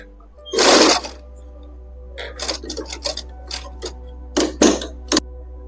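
Sewing machine stitching gota lace onto a chunni, heard as one long burst of rapid whirring followed by several short, uneven runs and stops, fairly close and with no talk.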